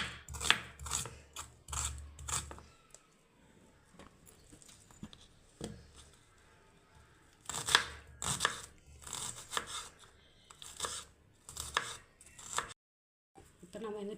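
Purple cabbage being chopped finely with a knife on a board: bursts of rapid, crisp cuts, a quieter stretch, then more quick runs of chopping, fairly close and without talk.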